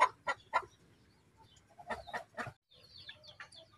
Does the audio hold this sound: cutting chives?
no